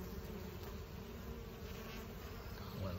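Honeybees crowd a hive entrance with a steady, close buzzing hum that holds even and dense throughout, with no voices.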